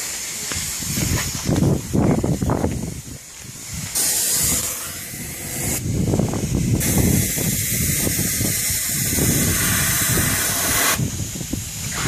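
Coating sprayed onto a car headlight during restoration gives a continuous loud hissing that pulses in long bursts with brief changes, nearly uninterrupted across the stretch and with no clear talk.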